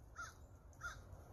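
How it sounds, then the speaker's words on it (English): A crow caws twice outdoors, two short harsh calls about half a second apart, moderately near over a low background rumble. "I'm trying to do a video here, you daggone crow"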